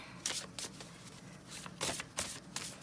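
Tarot cards being shuffled by hand, several short crisp riffling bursts spaced irregularly across the moment, close and fairly loud with no voices.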